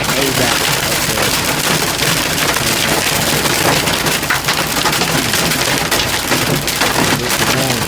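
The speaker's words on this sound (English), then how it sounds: "Hailstorm." Hail and heavy rain hammer a truck stopped in traffic during a Des Moines, Iowa hailstorm, a loud, dense, continuous drumming that fills the whole stretch without a break.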